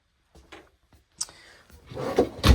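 A large drawer sliding open in the living quarters of a 2019 Merhow 4-horse trailer, a short run of wooden scrapes and soft knocks ending in a louder rolling slide and thump, heard up close.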